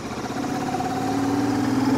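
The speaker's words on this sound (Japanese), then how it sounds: "独特のメカノイズが混ざっていて、 これはまあメカノイズとは言っても決して耳障りな音ではなく、これはこのエンジン独特のサウンドとして私は肯定的に捉えています。" A Royal Enfield Super Meteor 650 motorcycle engine hums steadily with a mechanical whirring mixed into its drone, close and constant, slowly rising in loudness.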